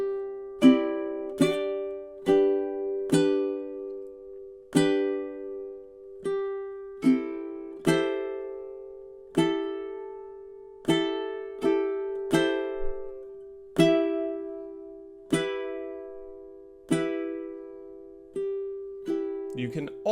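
Slow ukulele strumming of a sea-shanty pattern, about two dozen plucked chord strokes in an uneven, deliberate rhythm, each ringing and decaying clearly with nothing else underneath.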